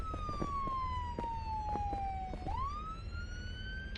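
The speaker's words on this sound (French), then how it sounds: "je vais couper la sirène." A police siren sweeps slowly downward, then jumps and rises again, faint and steady with light clatter and rumble beneath it.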